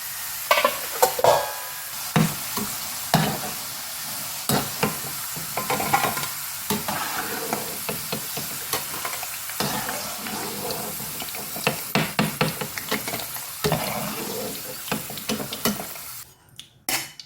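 Potatoes frying in hot oil until golden: a loud, continuous close sizzle with bubbling and repeated scraping and stirring clatter against the pan, no speech.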